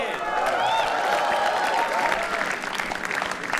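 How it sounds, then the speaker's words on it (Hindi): Audience applause and cheering at a live comedy roast show for comedian Rohit Singh, loud dense clapping filling the room steadily throughout, with a voice briefly audible over it. "तालियां एक बार रोहित सिंह के लिए"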